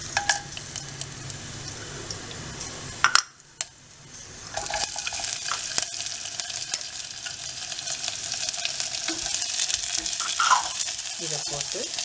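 Ghee and a little oil sizzle in a pan while cooking coconut milk rice, a steady close frying hiss that drops out briefly early on and then builds, with occasional light clinks.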